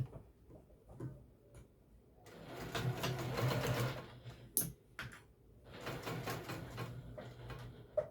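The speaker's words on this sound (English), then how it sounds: "make sure you backstitch there and sew all the way down" A sewing machine stitches an apron seam in two steady bursts of rapid mechanical whirring, separated by a short pause with a click, heard close and alone.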